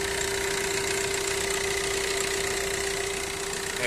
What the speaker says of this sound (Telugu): ఇంజన్ సౌండ్ మాత్రం ఇట్లా వస్తుందండి విత్ ఏసీలో ఉంది